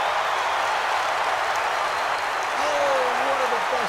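In EA Sports PGA Tour at the WM Phoenix Open, a big golf crowd of more than 20,000 gives loud, sustained applause and cheering after a great shot, a dense unbroken roar with a few rising whoops.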